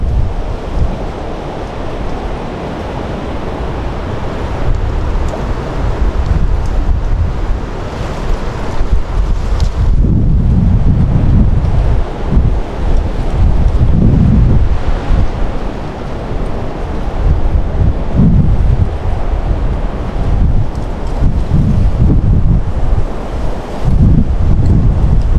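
Strong wind buffets the microphone while waves wash against the shore during an early April fishing trip, a steady loud roar with gusts and surges throughout, no talking.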